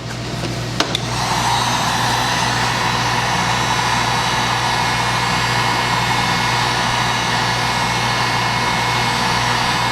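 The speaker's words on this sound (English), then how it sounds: "I keep my heat gun on there and my mallet and just roll it along as I go" Heat gun blowing steadily during rub rail installation on a boat restoration, a loud, constant whooshing hum that starts after a couple of sharp knocks and holds unchanged with no talk.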